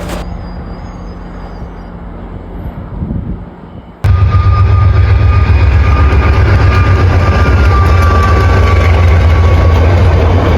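A massive GO Transit commuter train engine roars past close by, a sudden loud, steady rumble with rattling and a high whine that continues to the end.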